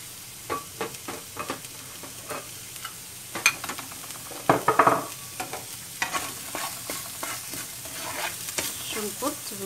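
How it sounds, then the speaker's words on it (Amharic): Onions sizzling in a little oil in a pan for a creamy soup, a soft close crackle broken by repeated spoon scrapes and stirring clatter. "አሁን እዚሁ መጥበሻችን ላይ ደግሞ ሽንኩርታችንን እናደርጋለን።"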